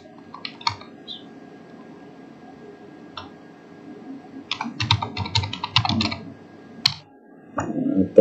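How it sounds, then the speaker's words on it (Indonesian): Fingers type on a computer keyboard during a PowerPoint slide design lesson, with irregular clusters of crisp key clicks near the microphone and short pauses between bursts. "Ketik lagi."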